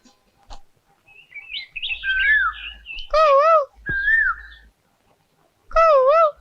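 A person whistles in imitation of a koel's call, with rising and warbling tuneful phrases in several loud, close bursts separated by short pauses.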